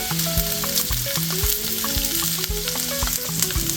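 Onions sizzle loudly in a stir-fry pan for a Ghanaian-Asian spaghetti stir fry, a steady close hiss broken by repeated clacks and scrapes of a utensil tossing the food.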